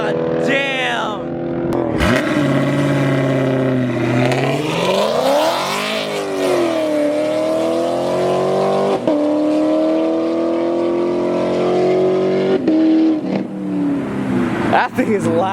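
Loud car engine revving hard at a large car meet, rising and falling through repeated revs and a long sustained high pull across the whole stretch, close by, with people talking over it.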